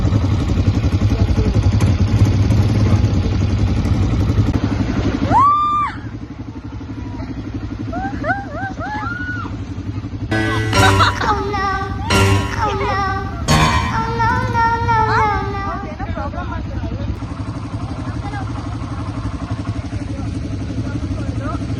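A two-seater ATV quad bike on a ride in Bali runs with a low, steady engine rumble throughout. Voices and a few sharp chirping calls rise briefly over it.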